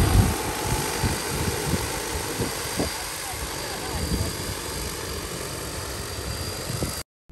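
A DJI T40 agricultural spray drone flies low over blueberry bushes, its propellers giving a steady, loud whirring drone that continues for several seconds, with a voice speaking over it.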